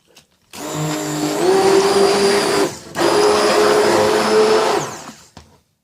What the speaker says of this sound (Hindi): इस हैंड ब्लेंडर की मदद से मैं अच्छे से इसको मिक्स कर लूँगी